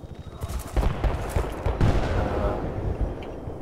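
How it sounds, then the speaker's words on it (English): Gunfire in the video game Bad Company 2: bursts of rapid automatic fire and overlapping shots crackle in dense volleys over a rumbling battlefield backdrop. "I see bullets flying over here."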